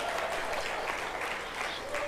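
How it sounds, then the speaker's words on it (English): Dense, continuous clapping from a town hall meeting crowd of political supporters, a steady wash of applause that stays even throughout without voices rising above it. "give him a round of applause"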